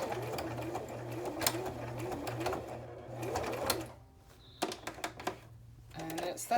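A home sewing machine stitching through a Little Golden Book, its steady rapid mechanical chatter running in bursts with short stops between, close and prominent, with a brief quieter pause midway.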